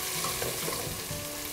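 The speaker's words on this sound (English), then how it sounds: "We got a good sizzle going. We want to just soften those onions." Onions sizzle in a pot for butternut squash soup, a close, steady frying hiss with faint crackles and a light stir, brief and without talking.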